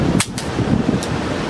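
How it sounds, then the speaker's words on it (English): A Samsung Galaxy Note 1 phone dropped face-down onto a hard surface in a drop test, giving a brief sharp impact followed by a faint second knock over low background noise. "Note 1 front-facing drop test."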